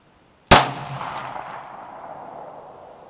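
A single loud, sharp shot from a S&W M&P Pro 9 pistol at an outdoor shooting range, followed by a long fading reverberant tail, with no talking.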